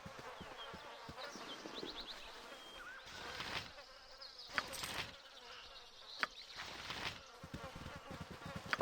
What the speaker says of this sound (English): Knew I heard something buzzing.